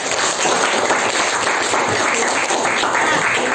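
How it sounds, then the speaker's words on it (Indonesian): A class bursts into steady, dense applause that fills the whole stretch, many hands clapping loudly and evenly in a classroom at the end of a finished project. "Tepuk tangan untuk diri kita masing-masing."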